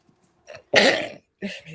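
A single loud, close sneeze bursting out after a brief breathy intake, followed by a short voice sound.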